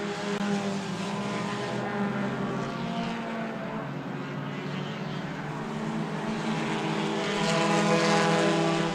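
Race cars in a Hornet class event on an oval track roar past at a distance with a continuous layered engine drone that swells near the end, heard alone without talk.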